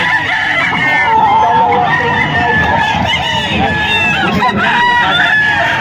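A hatch gamefowl rooster crows loudly and close by, its repeated calls joined by clucking from other fowl, with a murmur of people talking in the background.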